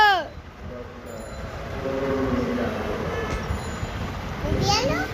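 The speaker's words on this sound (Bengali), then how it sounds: "ও নতুন ট্রেন চলে আসছে" A new train pulls into a station with a continuous low rumble, and high metallic wheel squeals ring out at the start and again near the end, while voices murmur in the background.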